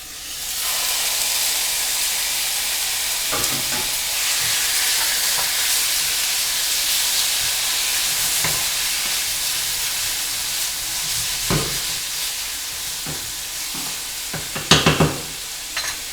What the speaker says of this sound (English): Pop it in and listen to the sizzle